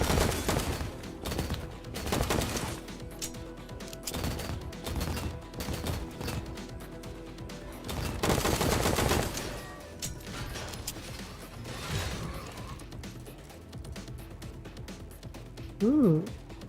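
Pistol gunfire in a sci-fi first-person shooter, heard as repeated sharp shots in bursts over the first ten seconds. Someone talks over some of them.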